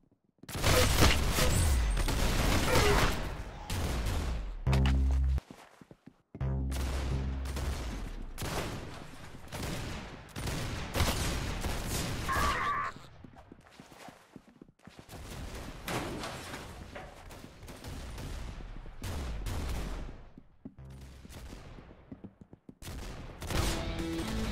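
Dense gunfire fills a shooting video game, long bursts of rapid automatic fire and single shots, loud and close, broken by brief pauses and mechanical clicks.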